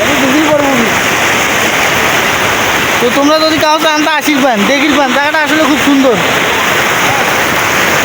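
Water rushes loudly and without pause through a siphon canal in Nilphamari, a dense roar that someone talks over for most of the stretch.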